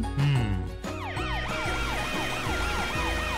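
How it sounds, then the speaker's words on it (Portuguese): Cartoon emergency vehicle sirens from a children's animated show about a train and city vehicles, several wailing sirens rising and falling together over a rumbling engine, loud and continuous with no talking. "Matt, Frank, liguem suas luzes e sirenes para tirar todos daqui."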